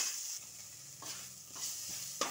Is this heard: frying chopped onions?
yes